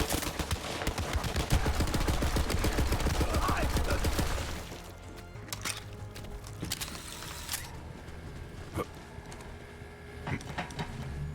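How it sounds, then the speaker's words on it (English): Gunfire in the video game Borderlands 3, a loud, rapid automatic burst for about four seconds, then quieter scattered single shots and mechanical clicks over the rest. "I had to say the shooting feels good so far"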